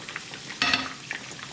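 Meat frying in oil for homemade hong shao rou: a faint sizzling background breaks into a sharp burst of crackling and spitting midway, then settles back to a quieter sizzle with a few small pops.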